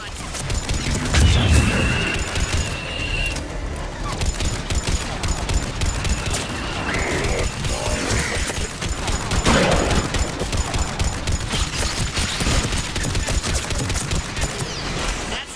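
Missile fire and heavy gunfire in the video game Mass Effect 3 form a dense, loud, continuous barrage of booms and rapid shots under faint voices.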